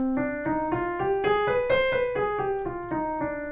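A piano plays a C harmonic minor scale rising then falling, about a dozen evenly paced single notes ringing clearly and alone.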